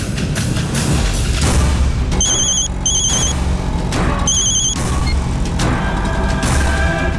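A phone ringtone chirps in short repeated bursts, three rings in all, over a steady roar of traffic and street noise.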